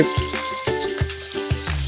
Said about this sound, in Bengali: এদিকে কাতলা মাছ ভাজছি আমি